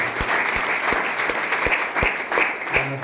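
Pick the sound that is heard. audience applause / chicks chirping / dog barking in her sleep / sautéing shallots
audience applause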